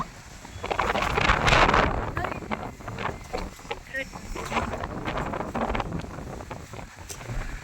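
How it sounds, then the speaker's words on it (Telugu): Strong gusty wind at the start of a rainstorm roars and buffets the microphone, rising and falling in waves with a rustling edge. "చినుకులు స్టార్ట్ అయినాయి ఇప్పుడు ఫుల్ గాలి కూడా స్టార్ట్ అయినాయి"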